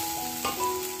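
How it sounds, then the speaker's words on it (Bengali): Eggplant slices frying in a pan give a steady sizzle and crackle, with a brief louder scrape or stir partway through; no one speaks. "হয়ে গেছে আমার বেগুন ভাজা"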